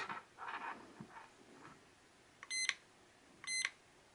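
A battery tester gives two short electronic beeps about a second apart as an AGM battery is plugged in, faint clicks and handling noise before them, with no talking.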